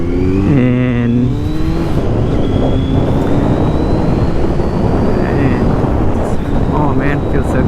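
A Kawasaki Z900 motorcycle rides along with a steady, loud engine drone and heavy wind rush, its pitch climbing and settling as it revs, while a rider's voice briefly talks over it.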